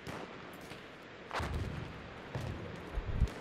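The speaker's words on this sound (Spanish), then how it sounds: "Me están disparando, me están disparando." Gunfire in the video game Battlefield 1 Beta, a few heavy booming shots and bursts landing close, with rumbling impacts around 1.4, 2.4 and 3.2 seconds over a steady battlefield background.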